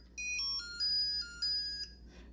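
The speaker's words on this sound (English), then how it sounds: "whenever you hear that sound, it means that you either have a base hit" A Mattel electronic handheld baseball game plays its base-hit beeps, a short melody of bright electronic tones in a few quick rising and falling steps, close and alone with no talk.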